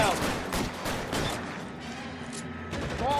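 Gunfire in the L.A. Noire video game, with dense repeated shots and blasts spread across the whole stretch, loud and close, alongside game ambience and a voice briefly calling out.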